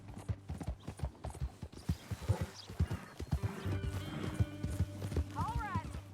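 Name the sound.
horse hooves clip-clopping, from a video game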